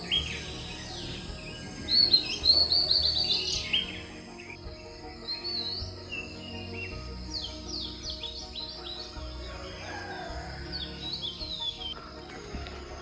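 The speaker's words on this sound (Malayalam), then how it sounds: "കിളികളുടെ ശബ്ദമൊക്കെ കേൾക്കാൻ പറ്റും." Birds sing and chirp on a misty morning in a Wayanad coffee plantation, with bright overlapping calls strongest early on, then scattered tweets continuing at moderate distance over a soft outdoor background.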